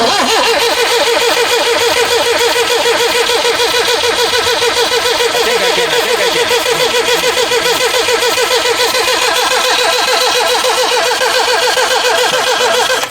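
An old Lotus being coaxed to start in a motor show car park, a loud, continuous rapid cranking and sputtering engine rhythm that holds for over ten seconds with no voices.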